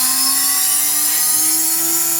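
A CNC router spindle whines at high speed, about 18,500 RPM, in a woodworking shop, a loud steady tonal hum whose pitch steps up slightly partway through.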